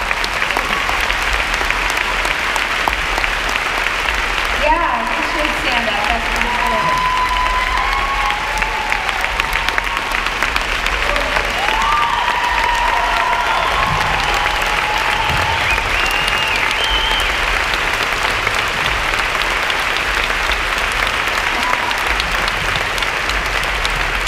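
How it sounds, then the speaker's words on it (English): Sustained audience applause at a talk, a steady clapping wash lasting over twenty seconds with a few voices speaking over it partway through. "let's give her a round of applause"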